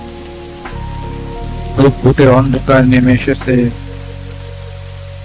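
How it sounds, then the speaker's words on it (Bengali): Steady rain patters throughout a Bangla ghost-story cartoon, a soft, even hiss sitting underneath a narrator who speaks over it in the middle of the clip. "চারিদিকে বৃষ্টির শব্দ, মাঝে মাঝে বিদ্যুৎ চমকাচ্ছে"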